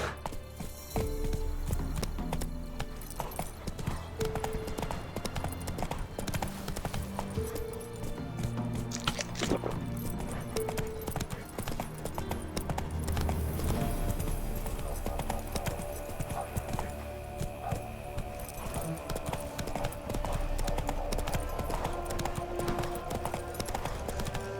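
Horse hooves clip-clop steadily throughout in The Witcher 3 game, a galloping mount with an occasional neigh, set against continuous game music and ambient effects.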